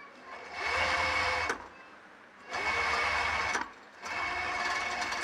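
An overlock sewing machine stitching salwar suit fabric runs in three sustained bursts with short pauses between them, a steady mechanical whir at moderate level and no talking.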